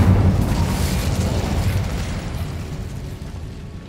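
A fire spell blast in Hogwarts Legacy bursts out as a loud, deep boom with a rumbling roar that slowly fades over a few seconds.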